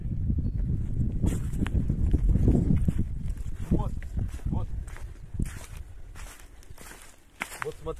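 Horses harnessed to a cart clop along on the way to fetch pumpkins, irregular hoofbeats and cart rattle running steadily under a voice talking over them.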